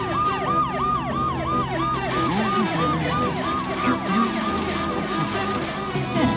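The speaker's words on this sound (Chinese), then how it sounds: "消防车出动救援" An animated fire engine races out to a fire with its siren sounding a loud, steady run of rising and falling wails, repeated over a busy musical backing throughout.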